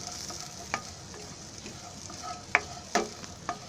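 Cumin and onion dry-roasting without oil in a pan on low gas, a faint steady crackle broken by a few sharp scrapes and taps of a stirring spoon, no voices.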